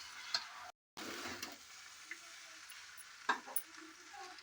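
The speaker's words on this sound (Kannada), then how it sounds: "ನಾನು ಮುಲ್ಪ ರೈಸ್ ಮಿಕ್ಸ್ ಮಾಡ್ತಾ ಉಂಡು" Rice being stirred in a pan for lemon rice, a soft scraping and sizzling texture with a few sharp ticks of the spoon against the pan, fairly quiet and close, with no voices.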